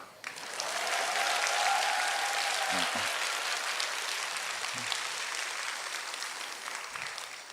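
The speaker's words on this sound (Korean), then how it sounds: "박수 한 번만 더." Sustained applause from a lecture-hall audience at a festival talk, a dense steady wash of clapping that holds for several seconds, with a brief voice heard faintly partway through.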